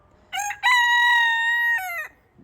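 A rooster crows once, close and clear, in a yard where chickens roam: a loud, drawn-out cock-a-doodle-doo with a short first note before the long call.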